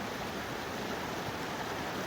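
Waterfall pouring into Megget reservoir, a steady broadband rush of falling water that stays constant and fairly close throughout, with no talking.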